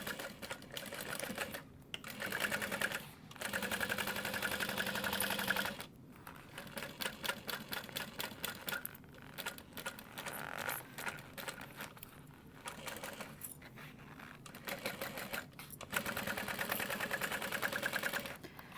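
A sewing machine runs a half-inch seam on a petite tote bag at a long stitch length, stitching in repeated runs with short stops, close but fairly quiet and without speech.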